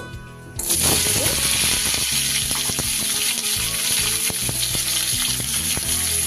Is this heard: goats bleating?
no